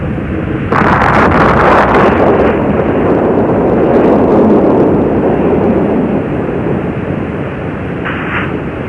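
The three main engines of the Space Shuttle Challenger, throttled up to 104% during launch, produce a loud, continuous, crackling roar that holds steady, then eases slightly toward the end.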